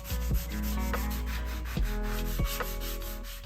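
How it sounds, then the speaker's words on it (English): Wood filler on a dresser being sanded smooth with a hand sanding sponge, a close, steady scratchy rubbing in repeated back-and-forth strokes with no talking. "I lightly sanded it smooth with a sanding sponge."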